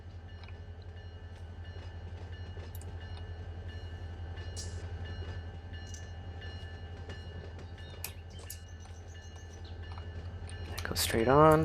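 A diesel train rumbles steadily in Run 8 Train Simulator on the Victorville Local, a low continuous engine drone with light clicks. A voice speaks briefly over it, and a rising horn-like tone sounds at the end.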